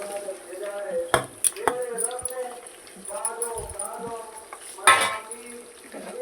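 Spatula stirring coriander seeds, sesame, garlic, onions and green chillies in a pan, with scraping, clinks of utensil on metal and a faint sizzle, while someone talks over the cooking.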